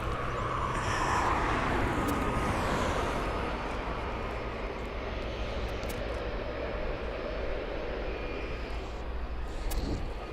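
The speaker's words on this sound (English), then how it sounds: "coming in on the approach right now, we have another aircraft" An aircraft on approach to East Midlands Airport makes a loud, continuous engine roar that holds steady at close range across the whole span.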